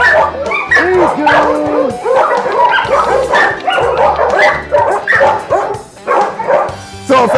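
Several dogs barking, yipping and whimpering together at an animal shelter in Lawton, a loud, busy, overlapping chorus close by that keeps going without a break.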